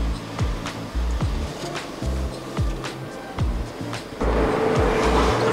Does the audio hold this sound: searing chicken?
no